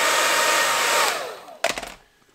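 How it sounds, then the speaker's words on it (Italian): A hair dryer blows a steady, loud whir while heating a motorcycle wheel rim, then winds down with a falling pitch and ends in a few clattering knocks. "Iniziamo col fonarlo per bene"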